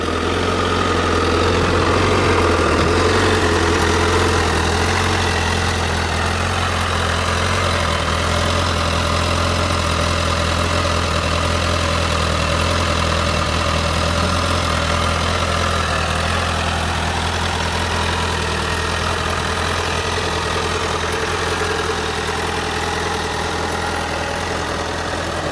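A 2013 Honda CBR1000RR Fireblade in Repsol livery idles steadily for about 25 seconds, the engine humming low and constant with a slight buzzing vibration, recorded close with no talking.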